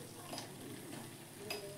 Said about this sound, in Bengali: এইভাবে ভাজলে বড়ি কত কম তেলে ভাজা হয় দেখুন।